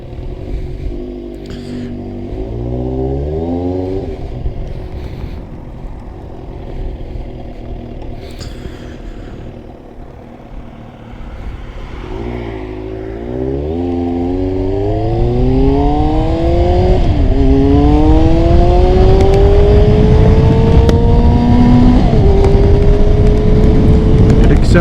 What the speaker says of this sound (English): Accelerates nicely. I tell you, I like these 600s.